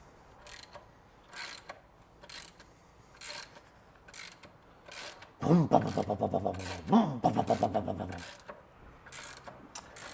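An old, dirty mechanism turned by a strange socket on its end gives a rhythmic series of close clicks and a brief grinding, ratcheting whir, then more steady ticking.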